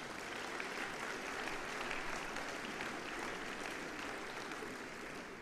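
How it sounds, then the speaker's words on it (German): Party conference delegates applaud in a steady, dense roar of many clapping hands, heard from a distance and fairly soft, with no speech over it. "Applaus."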